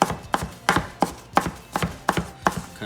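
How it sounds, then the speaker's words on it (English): Cucumber is roughly chopped with a knife on a board for a Greek burger, giving about eight sharp, evenly spaced chops close up with no talking. "Now I'm just gonna give it a rough chop."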